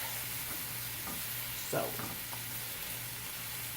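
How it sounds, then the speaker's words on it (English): Cooking wine sizzles steadily in a hot pan for steak bourguignon, a constant frying hiss with a few brief stirring scrapes. A single short spoken word is heard. "now we add the cooking wine. And then we let it cook until it's pretty much all evaporated"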